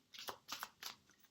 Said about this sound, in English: I'm just shuffling.